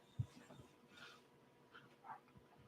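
A dog whimpers and pants softly nearby in a quiet room: faint, brief whines and breathy pants with a low thump, no talking.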